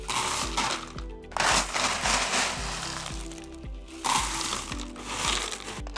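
Leca clay pebbles poured into a plant pot while repotting a Calathea Orbifolia make two loud, gritty rattling rushes, with softer trickling between them over steady background music.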